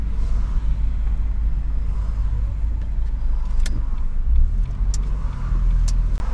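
Steady road traffic rumbles past continuously, loud and low, with a few faint sharp ticks over the passing vehicles and no speech.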